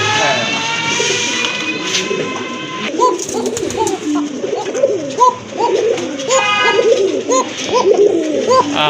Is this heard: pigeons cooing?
yes